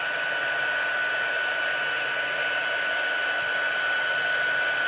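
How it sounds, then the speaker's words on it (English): A heat tool blows hot air to melt embossing powder on cardstock, a constant loud whirring hiss held unbroken throughout with no voices. "we're going to turn it over and we're going to let it melt that embossing powder"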